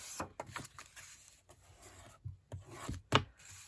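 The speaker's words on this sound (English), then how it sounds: "Do your folding and your burnishing." Folded 6x6 paper sheets are burnished with short scraping rubs close by. The strokes come in an irregular series with one sharper swipe near the end.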